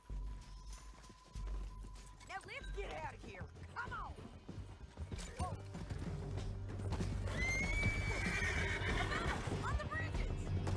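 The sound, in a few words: horse neighing and hooves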